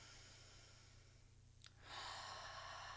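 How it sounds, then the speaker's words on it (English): Slow, deep breath drawn in and let out through the nose, a soft airy rush that swells into a louder, sustained exhale near the end, heard alone without talking. "nice deep breath, in and out through the nose"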